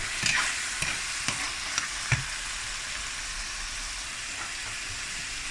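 Ground beef simmers in a pan after water is added, a steady bright sizzle and bubbling hiss with a few light stirring taps near the start, no talking.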